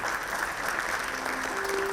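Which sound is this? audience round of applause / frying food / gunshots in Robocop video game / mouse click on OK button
audience round of applause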